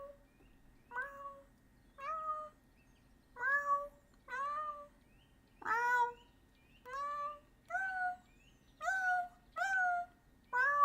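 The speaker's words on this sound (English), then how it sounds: "Thank you for the meow redeem, Nico." A synthesized cat meow sound effect set off by a livestream redeem, a series of about eleven clear, evenly spaced meows repeating roughly once a second, loud and alone over a faint background hum.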